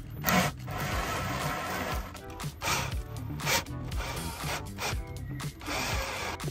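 A power drill bores a hole through a camper van panel in uneven bursts of grinding and whirring, with short pauses and scraping between pushes, loud and close with no speech.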